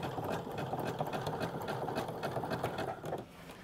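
A sewing machine stitches back and forth over a high-stress seam on pull-on pants several times, a close, steady run of rapid needle chatter lasting a few seconds before easing off.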